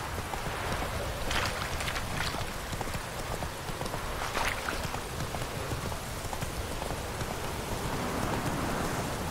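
Steady rain falls in The Witcher 3 on PC, a dense continuous hiss running throughout at constant loudness, with horse hooves clopping faintly underneath.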